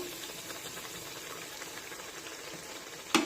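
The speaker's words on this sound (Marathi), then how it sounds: "पुरीवर सतत असं तेल सोडत राहायचं, म्हणजे मग पुरी छान फुलते" Salty-spicy puri frying in hot oil as oil is spooned over it, giving a steady faint bubbling sizzle with a brief sharp clink near the end.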